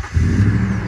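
Blacked-out Toyota Tundra Pro pickup engine heard up close, a brief loud low rumble with a rising rev.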